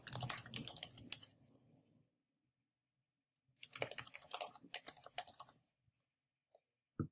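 Computer keyboard typing in two bursts, an email address being entered into a login form; quick clattering keystrokes for about a second, a pause, then a longer run of taps, close and fairly quiet with no voices.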